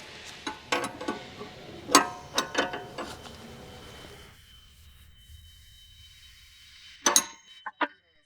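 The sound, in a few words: 16mm wrench tightening locking nut on sway bar end link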